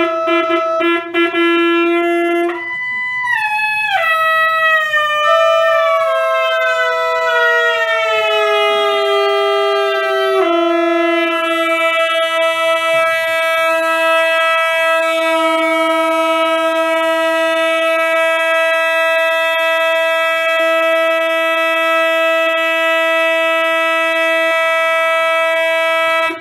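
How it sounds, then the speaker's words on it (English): A huge organ pipe tuned to E, built for a very large space, sounds one loud sustained harmonic-rich note that wavers and settles in pitch over the first seconds, then holds steady and close for the rest, with no talk. "This is an extra loud one because this is a huge place that this organ goes."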